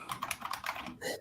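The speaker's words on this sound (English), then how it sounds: "Please get rid of that mechanical keyboard." Rapid clicky keystrokes on a mechanical keyboard, a quick burst of close, sharp clacks in an irregular rhythm, faint overall.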